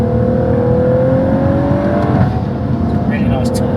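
A Stage 2 tuned BMW M135i with its 3-litre engine pulls hard under acceleration, a loud steady drone with a slowly rising engine note lasting several seconds, heard from inside the car.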